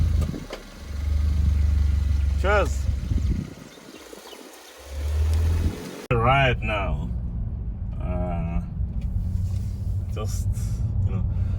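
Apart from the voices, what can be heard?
Kia Cerato Koup engine starting and pulling away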